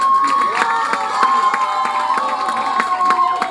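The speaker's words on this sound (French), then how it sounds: "Donc je voudrais qu'on l'acclame," A crowd at a school ceremony honouring the top pupil in Cocody's Gobelet village cheers and shouts loudly, with steady rhythmic clapping all the way through.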